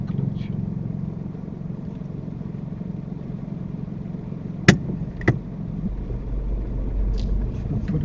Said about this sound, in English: this is a downhill start, so please be gentle with that clutch.